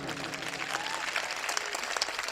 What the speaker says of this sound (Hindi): आपकी तालियां बजनी चाहिए